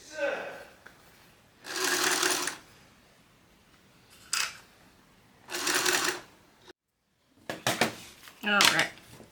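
A sewing machine topstitching a fabric bag runs in several short bursts of rapid mechanical stitching, each separated by quiet pauses, with brief clicks and handling noises in between.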